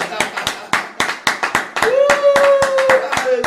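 A church congregation applauds during worship with loud, fast rhythmic clapping up close; partway through, a sustained voice rises over the ongoing claps.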